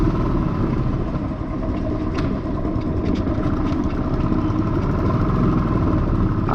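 A Royal Enfield motorcycle rolls through the entrance of Gandikota fort, its engine a loud, steady thumping drone close to the rider, with no talk.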